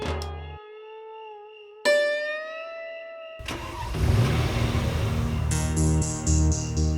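A car engine starts at night: a short starter crank, then the engine catches and idles with a steady mid-pitched drone, loud and close, with no talking.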